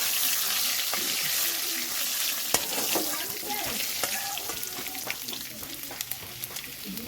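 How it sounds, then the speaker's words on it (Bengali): Two bay leaves, two dried red chillies and whole cumin seeds fry in hot oil in a pan. A close, continuous sizzle runs throughout, with sharp crackles and scattered light clicks from stirring. "ওই তেলেতে দেবো 2টো তেজপাতা, 2টো শুকনো লঙ্কা, আর দেবো 1/2 চামচের মতো গোটা জিরে আর ধরুন কথা সব একটু লাল করে ভেজে নেব।"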